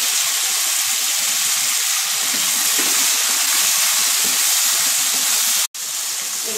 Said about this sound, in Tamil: இப்போ தக்காளி போட்டுக்கிறேன்.